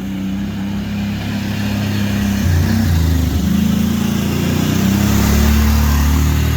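A 750 motorcycle engine revs up nearby, a loud rough roar that climbs and holds steady without any talk.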